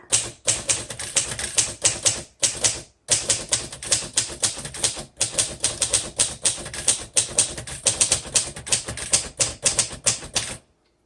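A 1942 Royal Quiet DeLuxe manual typewriter clatters in quick bursts of sharp keystrokes, with brief pauses between runs, close and crisp, with no voices.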